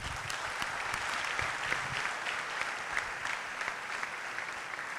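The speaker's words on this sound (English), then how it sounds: "a huge round of applause for him" An audience at a lecture on civilization and identity breaks into sustained applause, a dense wash of clapping that holds at an even level for about five seconds with no speech over it.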